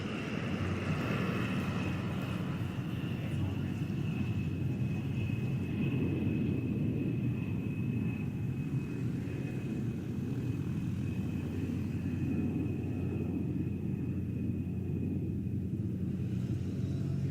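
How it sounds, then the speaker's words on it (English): An A-10 attack jet flies a demonstration at the 2024 Tampa Bay airfest, its engines giving a steady, distant droning rumble with a faint high whine, heard alone and continuously throughout. "The A-10 is the premier close air support aircraft, supporting our ground forces engaged with the enemy."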